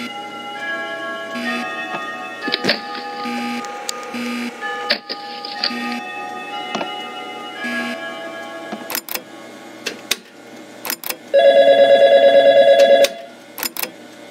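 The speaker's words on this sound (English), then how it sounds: "Pick up the phone already." A telephone rings again and again in Five Nights at Freddy's. Clear, even ring bursts come with ticking and mechanical tones and end in a long sustained electronic buzz. Nobody speaks.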